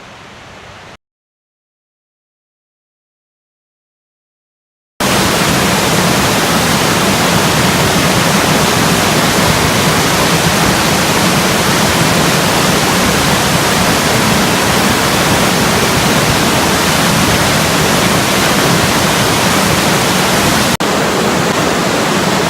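An Appalachian waterfall roars as a dense, constant wash of falling water, loud and close. It starts after a short silent gap and runs unbroken for about seventeen seconds.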